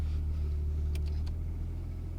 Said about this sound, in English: the car's got a rough time idling, as it already is right now